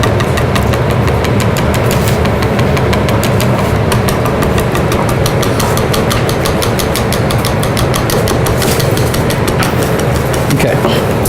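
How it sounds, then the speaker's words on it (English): A whisk beats a sugary vegan Thanksgiving mixture in a bowl with fast, even, loud strokes throughout. "We're gonna whisk this together."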